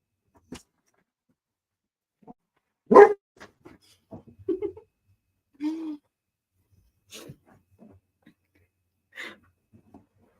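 A dog that has been shut in for a while barks in short, scattered bursts indoors: one loud sharp bark, then a few softer yips, whines and huffs spread across the stretch, with no talking.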